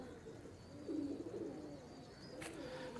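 Soft, low pigeon coo close by in a quiet setting, a brief murmuring call near the middle over faint background hiss, with no voices.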